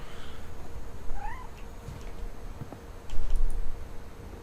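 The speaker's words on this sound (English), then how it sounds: "Oh, kitty cat." Cat meowing in the video game What Remains of Edith Finch, a couple of short rising meows over quiet ambient game sound, followed by soft ticking and a low thump.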